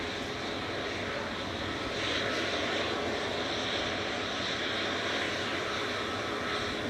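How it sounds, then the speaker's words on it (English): Portugalia Airlines Embraer E195 jet airliner departing Manchester Airport for Lisbon, a steady broadband engine roar held at a constant level throughout, swelling slightly partway through, with no voices over it. "Number E195, operated by Portugalia Airlines to Lisbon, CSTAY, flight 1313."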